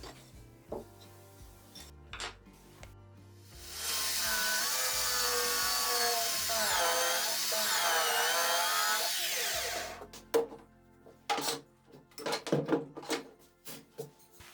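Fine bit drilling straight through a round wooden dowel for a Montessori-style wooden learning tower, a steady high power drill whine lasting about six seconds, framed by nearby knocks and handling clatter.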